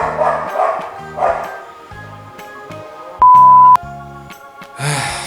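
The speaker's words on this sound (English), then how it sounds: "This goddamn dog gonna let me talk?" A dog barks repeatedly and loudly, in several sharp bursts with short gaps, one bark followed by a brief steady tone, the barks coming close together.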